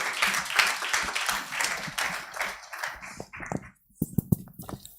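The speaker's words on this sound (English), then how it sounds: "I'd like you to please cheer them on with a round of applause" Conference audience applauding, a dense wash of clapping that fills the first few seconds, then thins into scattered individual claps before a brief pause and a few louder isolated claps near the end.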